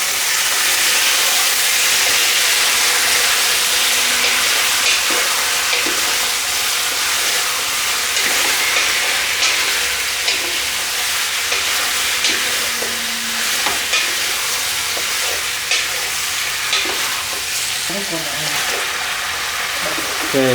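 Pork belly stir-fried in a hot pan, a loud, continuous sizzle and hiss with scraping stirring noises running under it, ending in a few sharper clatters of the utensil against the pan.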